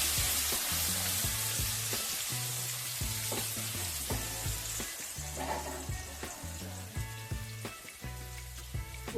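Vegetables and chicken fry in a hot pan for restaurant-style mixed fried rice, giving a steady close sizzle with scraping stirring strokes throughout, alongside some tonal background sound.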